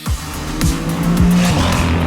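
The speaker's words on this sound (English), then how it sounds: "You can see that the car is hammering the curb and you can see that there's a car chasing it down." Race car at the Gulf 12 Hours endurance race hammering the curb, loud close engine roar with rapid pitch sweeps from gear changes and revs, continuous and intense throughout.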